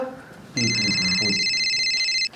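A phone rings with a steady electronic trill, loud and close, running for nearly two seconds over a quiet room after a brief snatch of speech.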